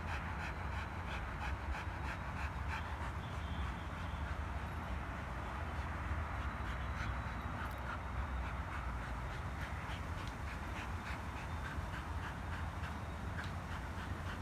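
A Rottweiler pants steadily in a rapid, continuous rhythm throughout, close by, over a constant low rumble of background noise during bite training.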